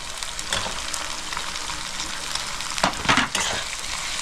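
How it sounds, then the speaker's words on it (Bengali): Chopped tomatoes frying in a pan with ginger, garlic and chili paste for a Bangladeshi pangas fish curry, a steady close sizzle with a few stirring scrapes and a louder burst near the end. "টমেটোটা দিয়ে আমি 1 থেকে 2 মিনিট ভালো করে কষাই নেব।"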